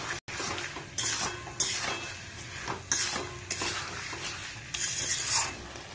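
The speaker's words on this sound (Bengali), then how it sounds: "এবার এটাকে অনবরত নাড়তে হবে, নাহলে লাম্প হয়ে যাবে।" Cornflour batter for chilli fish stirred steadily in a hot pan, a scraping, swishing utensil rhythm over a soft sizzle, with a few louder strokes recurring about every second.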